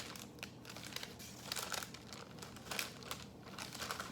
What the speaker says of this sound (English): You can use this parchment paper to your advantage because it will help you